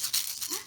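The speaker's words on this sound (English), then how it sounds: "Shake both of them." Two small plastic eggs filled with objects are shaken, giving a brief, close, continuous rattling patter of loose bits knocking inside hollow plastic shells.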